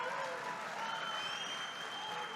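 Steady applause from a large audience at a Trump address to the National Association of Counties, a continuous, fairly distant wash of clapping with no clear breaks.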